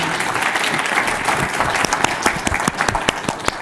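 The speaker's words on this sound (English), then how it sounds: "If we can give them a quick round of applause." Audience at a League of Women Voters congressional candidate forum applauds the Republican primary candidates, a dense burst of clapping that thins into separate, louder individual claps toward the end.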